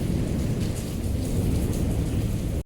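Steady drizzling rain on a dark, cloudy day, a continuous dense hiss of drops falling close by with a low rumbling undertone, loud and unbroken, with no voices.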